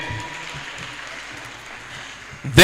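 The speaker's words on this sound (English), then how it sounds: "I thought you would clap your hands for them." Audience applause fills the hall at a Medical Laboratory Science oath-taking and induction ceremony at Al-Hikmah University, a steady wash of many hands clapping at moderate volume that swells louder at the very end.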